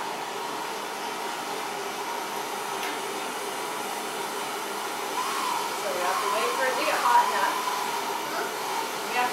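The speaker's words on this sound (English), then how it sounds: "we want to heat the fitting. We want to heat it evenly all the way around." A plumbing torch heating a fitting for soldering gives a steady, close roaring hiss that holds evenly throughout.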